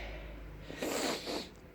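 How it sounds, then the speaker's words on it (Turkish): A single short, breathy sniff through the nose, close and fairly quiet, with soft room noise around it. "Yine burnumu çekiyorum."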